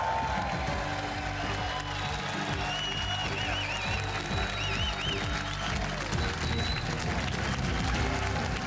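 A large, rowdy crowd at a Trump town hall in Davenport, Iowa claps and cheers in a continuous, fairly loud roar, with whistles rising above the dense clapping throughout.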